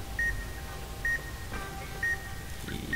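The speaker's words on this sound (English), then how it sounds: "Where was that beep?" Short electronic beeps in Fallout: New Vegas repeat at a steady pace, roughly once a second, over a faint background hum.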